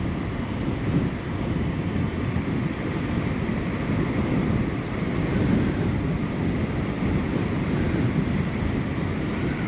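Headwind roars across the microphone on a paved road bike ride, a steady dense low rumble of buffeting air with no breaks.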